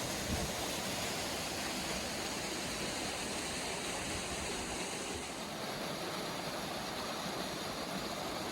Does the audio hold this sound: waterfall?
yes